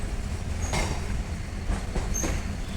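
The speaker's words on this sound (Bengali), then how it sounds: "আমাদের ট্রেন কিন্তু দেখুন ট্র্যাক চেঞ্জ করছে" A train near Ranaghat station rumbles loudly along the rails while changing tracks, with a constant heavy roar and a few faint metallic squeals and clacks over the points. No voices are heard.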